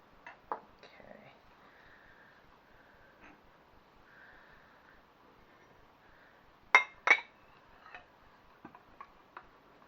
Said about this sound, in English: So just go around it with a knife.